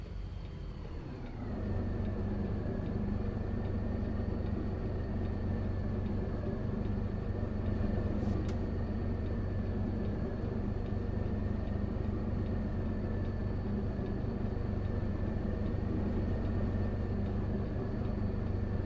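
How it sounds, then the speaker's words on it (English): A robot vacuum cleaner runs steadily in the background with a constant whirring hum and a faint high whine, continuous for the whole stretch with no speech. "I don't know if you can hear the noise in the background, but that's my robot vacuum cleaner."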